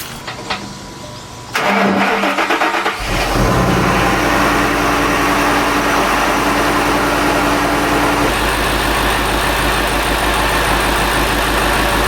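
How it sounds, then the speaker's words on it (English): A Ford Mustang GT500 cranks to life and settles into a steady, loud idle while its freshly repaired SVT OEM radiator fans whir continuously alongside the engine, close up with no talk. "let's turn the car on and see these fans come on"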